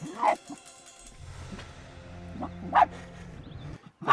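A dog barks from about ten feet down a hole on an African safari, three sharp muffled barks spaced out over a low rumbling engine-like drone in the background.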